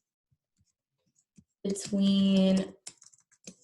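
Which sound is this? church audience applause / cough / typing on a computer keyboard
typing on a computer keyboard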